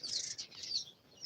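Young chicks in a chicken coop peeping in quick, high, thin chirps, several overlapping calls at moderate loudness against a quiet background.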